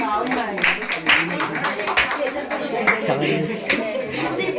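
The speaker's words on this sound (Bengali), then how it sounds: "সবাই জ্যোতির জন্য একটা করতালি দেন" Clapping for a prize winner at a school teachers and parents prize-giving ceremony, rhythmic hand claps from a small crowd mixed with voices talking and laughing nearby.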